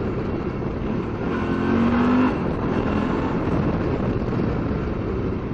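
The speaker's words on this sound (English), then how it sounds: "Let me test the brakes." A 2008 Suzuki V-Strom 650 motorcycle ridden during a brake test, giving a steady engine drone mixed with rushing wind noise, the engine note rising briefly then settling back to a constant cruise.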